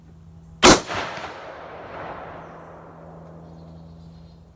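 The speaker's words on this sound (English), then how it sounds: "It hardly kicks at all, this heavy rifle." A heavy 1917 Enfield rifle chambered in 25-06 Ackley Improved fires one loud, sharp shot, followed by a rolling echo that slowly fades over a low steady hum.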